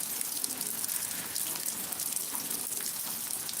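Steady rain falls outside a shop, a continuous hiss of drops hitting surfaces with no talk over it.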